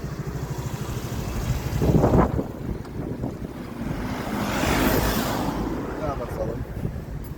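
A motorcycle engine revs while being used to jump-start a car, its drone swelling twice under gusty wind noise, close to the microphone.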